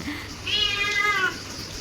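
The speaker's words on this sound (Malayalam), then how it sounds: "ആ പൂച്ചയുടെ സൗണ്ട് മാറിയത് കണ്ടോ" A single drawn-out cat meow, clear and close, rising then falling in pitch over about a second against quiet background.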